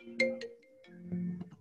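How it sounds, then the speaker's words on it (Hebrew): A phone rings during a university lecture on machine translation, two short electronic tone bursts at moderate volume in a quiet room. "אופה, יש טלפון"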